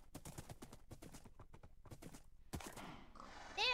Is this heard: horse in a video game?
yes